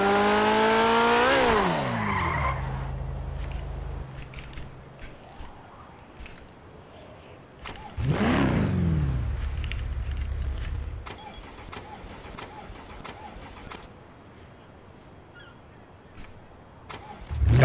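A police car in a video game starts up with a rising engine whine, then tires squeal and skid in a long burst. After a pause the engine revs and surges again, with short sharp bursts over quiet stretches.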